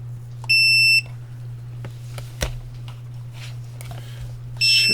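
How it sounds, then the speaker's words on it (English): Electronic test beep from a meter while checking a diode on a circuit, two loud steady tones of about half a second each with clicks between, over a constant low hum. "That is the most annoying beep in the world right there."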